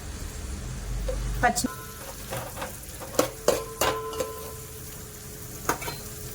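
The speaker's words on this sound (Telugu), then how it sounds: "ఆయిల్ హీట్ అయ్యాక దీంట్లో కట్ చేసిన ఉల్లిపాయలు పచ్చిమిర్చి కూడా వేసుకుంటున్నా." Chopped onions and green chillies hitting hot oil in a pan, a steady sizzle and frying hiss with a few sharp clatters of stirring, close and fairly quiet, no talk.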